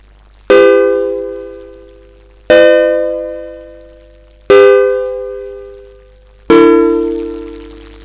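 A synthesized chord stab sample for an Elektron Analog Rytm drum machine strikes four times, evenly spaced about two seconds apart; each loud, rich harmonic hit decays slowly before the next, with no voices.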